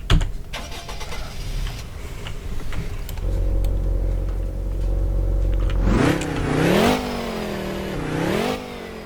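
A video-game slot car engine under test: a short rattle, then the engine catches into a steady low idle before rising and falling revs sweep up and down twice, loud and close with no talk.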